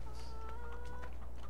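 Hen clucking in the farming game Farming Simulator 2013, a short run of a few soft, nasal calls over a steady low background hum, with no talking.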